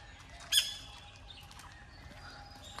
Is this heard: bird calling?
yes